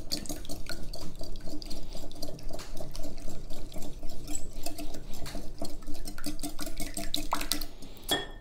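Two eggs are beaten in a mixing bowl, a rapid, continuous run of close wet clicks and sloshes from a whisk or fork, steady and unaccompanied by talk.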